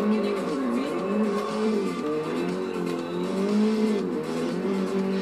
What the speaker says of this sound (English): Rally car coming through.